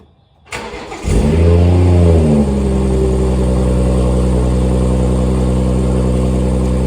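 A 2008 Acura TL Type S engine starts, then revs and builds through acceleration before settling into a steady loud drone, close up with no talking.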